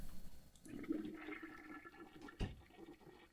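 A toilet flushes with a rushing swirl of water that swells and then drains away, cut by one sharp knock near the end, faint and with no speech over it.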